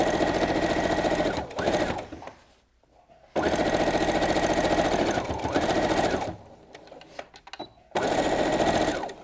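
A sewing machine stitches a picnic tote bag seam in three long, loud, steady runs, separated by brief pauses filled with fabric handling and small clicks.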